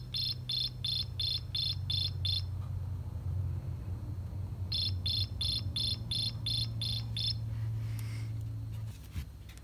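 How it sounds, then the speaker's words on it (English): Cricket chirping in repeated trilled bursts, two groups of about seven pulses each, fairly clear over a steady low hum, heard alone as part of a children's story reading about a quiet cricket. "he chirped the most beautiful sound that she had ever heard"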